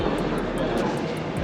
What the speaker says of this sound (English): And our plane has finally showed up.